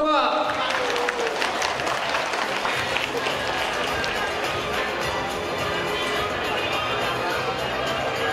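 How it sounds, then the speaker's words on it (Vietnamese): Dense, sustained applause from an audience fills the room at the 11th anniversary celebration of Hoàng Anh Cosmetics, steady and loud throughout with crowd noise mixed in. "tất cả quý vị có thể dành cho đại gia đình của Mỹ Phẩm Hoàng Anh một tràng vỗ tay thật lớn được không ạ?"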